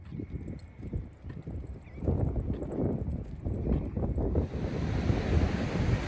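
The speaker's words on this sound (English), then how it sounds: "The waves sound lovely and the sand is nice." Ocean surf and wind on a quiet Texas beach at Galveston, with waves washing in and out close by and gusty wind buffeting the microphone, growing louder and more continuous in the second half, with no talk.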